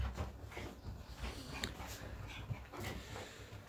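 Several dogs feeding together at a shared bowl, with close, continuous lapping, chewing and shuffling sounds, some soft whimpers and small clinks mixed in, steady and fairly quiet throughout.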